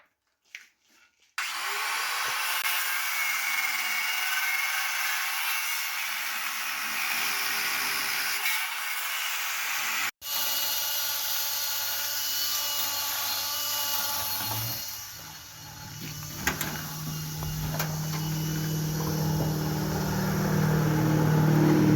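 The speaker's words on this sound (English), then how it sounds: "I'm going to start cutting the motor mounts off." Power cutting tool slicing through the motor mounts of an M715 during an engine and transmission swap, a loud continuous whining grind that runs for a long stretch with a brief break and shifting pitch.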